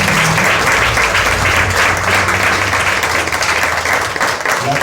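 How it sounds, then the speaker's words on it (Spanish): A church congregation claps loudly and continuously for nearly five seconds during a Spanish-language worship service, a dense, even wash of hands with no voices on top. "Denle un aplauso al Señor."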